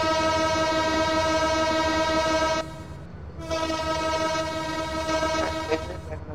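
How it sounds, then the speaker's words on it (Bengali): Banalata Express locomotive horn in the BTZS train simulator game at Rajshahi station: a loud, steady, harmonic blast that cuts off briefly, then sounds again over a low engine rumble. "একটা হর্ন বাজিয়ে আমরা বনলতাকে নিয়ে ছুটে চলি আব্দুলপুরের দিকে"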